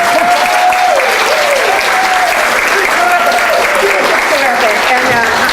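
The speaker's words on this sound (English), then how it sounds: "Let's have a round of applause for Eric." A room of listeners at a Carlsbad Republican Women Federated meeting breaks into loud, sustained applause, dense steady clapping filling the whole stretch with some voices carrying over it.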